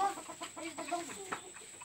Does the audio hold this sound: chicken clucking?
yes